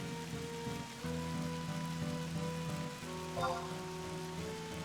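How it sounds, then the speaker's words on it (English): Rain in the video game Final Fantasy XI, a constant pattering hiss of rainfall layered under sustained game music tones, with no speech. "It's raining after all."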